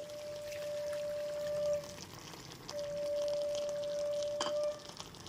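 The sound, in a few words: water being poured into chicken curry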